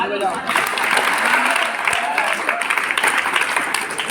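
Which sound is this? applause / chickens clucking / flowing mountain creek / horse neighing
applause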